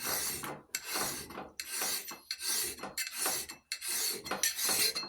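A hand file rasping across a steel axe head, about seven long rhythmic push strokes, each a loud gritty scrape close by, with short gaps between them and no talking.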